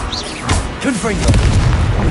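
Confringo fire spell explosion from Hogwarts Legacy, a loud booming blast with rumbling aftermath, mixed with other whooshing effects and brief voice-like cries amid the fight.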